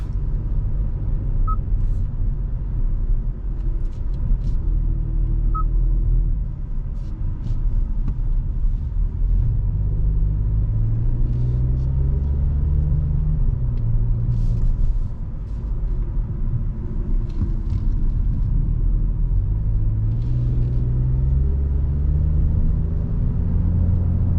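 Hyundai Bayon 2022 with the 1.0 T-GDi 100 hp engine and DCT gearbox on a test drive: a steady low engine drone and road rumble inside the cabin, rising and falling gently with throttle, with no talking.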